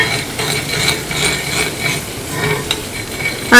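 Sugar melts and caramelizes in a pan, giving a steady soft sizzling hiss with light scraping and stirring taps throughout, fairly close and without voices.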